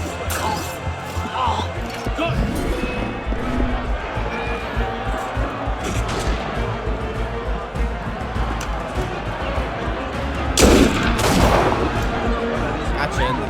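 Gunfire in Assassin's Creed Unity, a steady dense game soundscape with a louder burst of shots near the end, under a player's talk.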